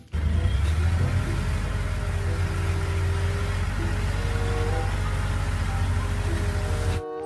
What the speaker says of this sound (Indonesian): Mobil dump truk teman-teman.